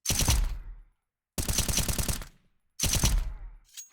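Three short bursts of automatic gunfire from Counter-Strike 2, each a rapid rattle of shots lasting under a second, loud and close with brief silences between.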